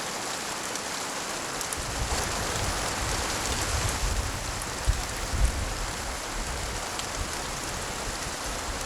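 Steady rain falls in a broad, even hiss that stays constant throughout, with a couple of soft low thumps near the middle.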